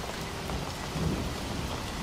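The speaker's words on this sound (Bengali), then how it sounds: "দেখছো কেমন ঝড় বৃষ্টি শুরু হয়েছে? আর কি জোরে জোরে মেঘ ডাকছে" A nighttime thunderstorm pours heavy rain in a dense, steady hiss, with a low rumble of thunder rolling beneath it midway; no voices.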